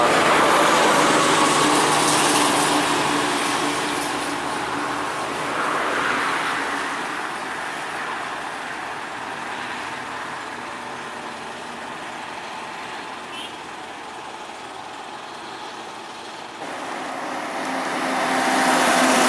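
A Mercedes-Benz OH 1526 bus with Hyperion HD bodywork speeds past on a highway, a long broad roar of engine and tire noise that swells, holds steady, then rises again as it passes close by.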